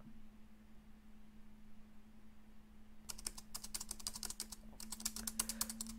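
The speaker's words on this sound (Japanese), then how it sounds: "無我夢中でキーボードを叩き続ける" Quiet room tone with a low steady hum, then rapid typing on a computer keyboard starts halfway through, a dense run of close, crisp key clicks with a short pause before resuming.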